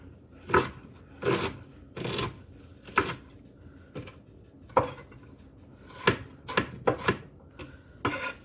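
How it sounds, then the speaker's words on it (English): An onion is chopped with a knife on a board for a bean and vegetable soup, giving a series of crisp, close strikes at an uneven pace, about a dozen cuts with no talking. "I'm going to get this onion cut up because I do want to get that cooking."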